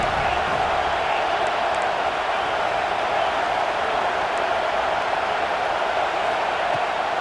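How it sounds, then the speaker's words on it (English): A home crowd roars at an Alabama vs Clemson football game. The loud, even wall of crowd noise holds steady with no break as the defense tries to get off the field on third down. "Here comes his home crowd as the defense tries to get off the field on third down."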